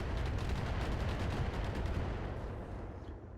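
Weapons fire together in a MechWarrior-style mech combat game, a dense, loud rumbling barrage of overlapping blasts that holds steady and eases off slightly toward the end.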